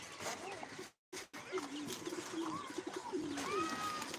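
Pigeons coo softly and repeatedly in a home loft on a hot afternoon, low murmuring calls running steadily through the background with a brief dropout near the start.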